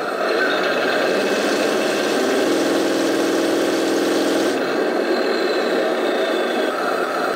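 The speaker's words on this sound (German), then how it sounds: "Ich versuche mal zu beschleunigen." A Heng Long RC Leopard 2 A6 tank model revving up, a steady electric engine whine and hum that rises in pitch mid-way, then eases back, close and continuous.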